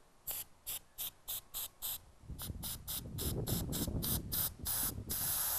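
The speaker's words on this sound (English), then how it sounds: "we're going to do a little bit of sand etching on the glass jars" Rhythmic bursts of hissing sand spray in short pulses onto a glass jar through a stencil, then a continuous gritty spray that carries on steadily, close by.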